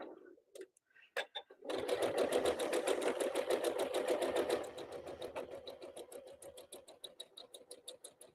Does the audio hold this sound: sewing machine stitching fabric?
yes